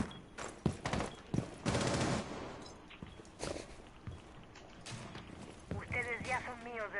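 Gunfire in the Rainbow Six Siege video game: a cluster of sharp shots and rapid bursts early on, then scattered further reports, fairly close, with game movement noises and a voice near the end.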